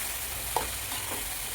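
Grated bottle gourd is stirred in a pan over medium heat with curry leaves, giving a constant close frying hiss and a brief soft clink from the spoon.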